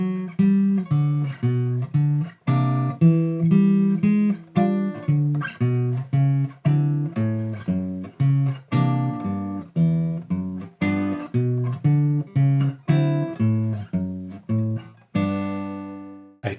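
Walking bass line on guitar with a chord struck squarely on the first beat of each bar, a steady, even, straight rhythm of plucked notes played alone with no talking.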